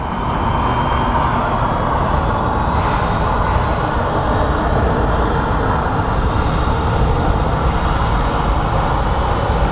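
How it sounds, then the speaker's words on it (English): A Fairchild Metroliner turboprop operated by Key Lime Air takes off at Sky Harbor International Airport, a loud, continuous broadband engine roar holding steady throughout with a faint rising whine. "Kind of excited to see this plane take off, to be honest."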